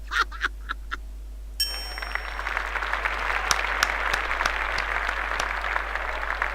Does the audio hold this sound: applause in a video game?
yes